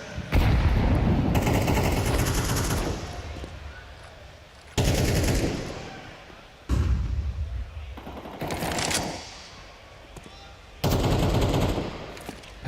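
Rifle gunfire in a professional Counter-Strike match, bursts of automatic shots and single cracks arriving in several loud clusters separated by quieter stretches.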